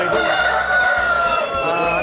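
A Bangkok fighting rooster crows loudly and close at a chicken market, one long drawn-out call with a strained, raspy tone.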